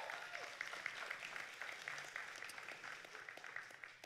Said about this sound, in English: You can give Taylor a round of applause